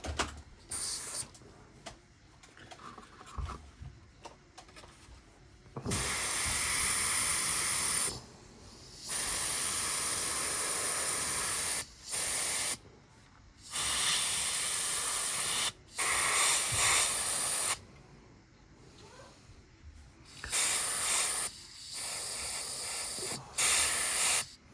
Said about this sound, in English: Can't manoeuvre the airbrush properly.